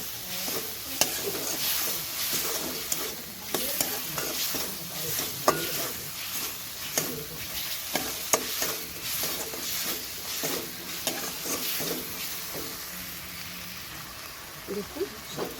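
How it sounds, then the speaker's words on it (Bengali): Tomato sauce stirred into a frying chili garlic potato mixture in a pan, a steady soft sizzle under repeated scraping and stirring strokes, close and moderately quiet. "একটু এবার নেড়ে চেড়ে নেবো"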